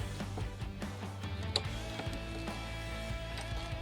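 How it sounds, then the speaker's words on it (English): A bicycle fork is lowered onto rack mounts in a slide-out tray inside a camper van, giving metallic clicks, ratcheting ticks and knocks over a steady low hum, close by with no talking. "we'll bring our forks down right onto our mounts here"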